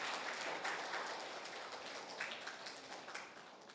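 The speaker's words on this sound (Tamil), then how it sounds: "முதலில் இந்த நிகழ்வில் பங்கு பெற வந்துள்ள குழந்தைகளுக்கு கைத்தட்டி உற்சாகப்படுத்தி வரவேற்போம்" Audience at a children's book review event applauding to welcome the children, a dense wash of steady clapping from a crowd, fairly distant and soft, holding evenly for a few seconds.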